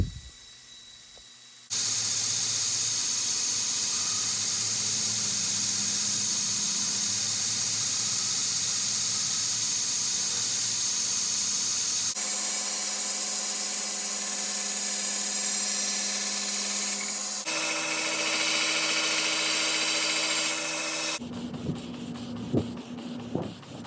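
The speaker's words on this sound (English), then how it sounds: "With the fullers forged in, it took no time at all cleaning them up on the grinder." A belt grinder cleans up the forged fullers of a Petersen Type X Viking-era sword, roaring in long loud continuous passes that shift in tone between sections, with brief quieter gaps at the start and end.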